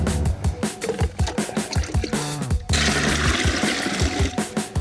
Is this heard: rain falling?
no